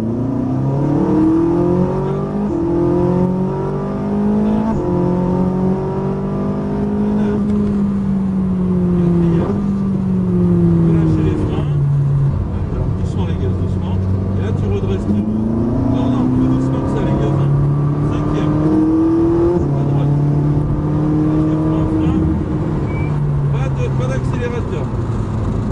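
A 740 hp supercar engine revs and accelerates in repeated rising surges, loud and close, with pitch climbing and falling as throttle is applied while a voice talks over it.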